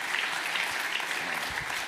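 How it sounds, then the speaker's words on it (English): Loud, steady applause from a seated audience at a Bitcoin policy summit, dense clapping sustained evenly throughout without a break. "can we give David and everybody at BPI a round of applause for everything they have done?"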